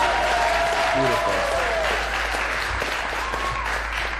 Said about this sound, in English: Can we get just a warm general round of applause or something?